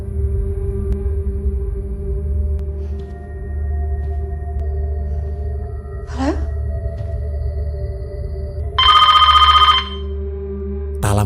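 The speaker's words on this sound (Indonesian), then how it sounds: "Tak lama terdengar suara telepon berbunyi." A telephone bell rings out in a short, loud burst of rapid trilling over a low, droning ambient bed, with a brief rising tone just before it.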